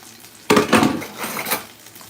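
A spoon digging and scraping tomato paste from a container while making jollof rice, a sudden close clatter of metal followed by a few short scrapes and clinks, alone and brief.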